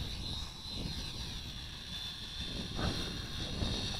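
An HJ818 hexacopter drone on its first test flight, flying outdoors in the wind, gives a steady motor whir with wind noise throughout, fairly distant and even in level.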